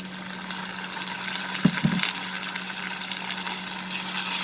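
Onions and ginger garlic paste sauté in a pan for a prawn and sponge gourd dish, giving a continuous hissing sizzle with a steady low hum and two brief knocks of a utensil partway through.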